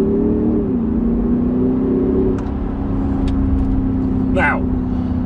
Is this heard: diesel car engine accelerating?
yes